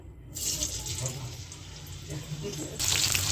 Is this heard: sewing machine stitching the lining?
no